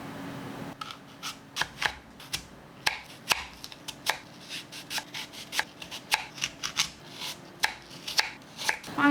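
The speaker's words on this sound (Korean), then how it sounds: "최대한 얇게 자르려고요" A knife slices an apple thinly on a cutting board, making a quick series of crisp, close chops at an irregular rhythm, each cut sounding as a distinct tap.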